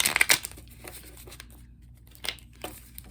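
Deck of Bible promise cards being shuffled by hand, a crisp burst of riffling at the start followed by a few lighter, scattered card flicks, close and quiet with no talking.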